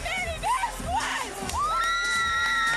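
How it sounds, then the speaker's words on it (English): Women in a crowd at an MMA bantamweight title fight scream and whoop in high, rising shrieks over a continuous roar of cheering, several voices overlapping throughout. "There they are, the screaming ladies you hear all night that are cheering for Manny Vazquez."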